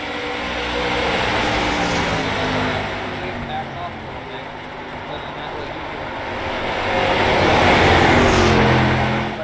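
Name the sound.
stock cars racing at USA International Speedway in iRacing video game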